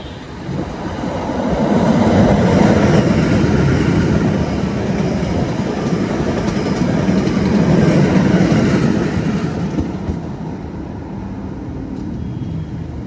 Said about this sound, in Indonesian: Nah, ini ada KRL yang berangkat.